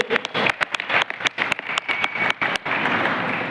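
A seated crowd at a training program gives a loud, sustained round of applause, with many hands clapping at once and sharp individual claps standing out close by.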